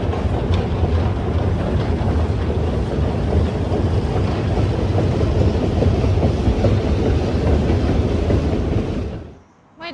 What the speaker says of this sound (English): Look at this metro station.